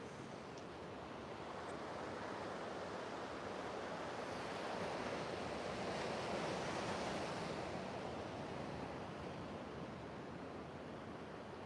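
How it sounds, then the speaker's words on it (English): Ocean waves and breeze on an oceanfront, a continuous soft wash of surf with wind noise, steady and fairly faint, swelling slightly in the middle, no voices. "Feel that ocean breeze."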